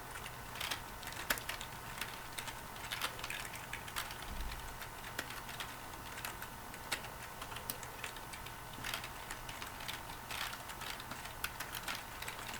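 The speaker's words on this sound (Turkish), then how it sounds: "Klavye baya ses çıkarıyor." Steady clicking of keys being typed on a computer keyboard, a quick irregular patter heard up close against a low background hum.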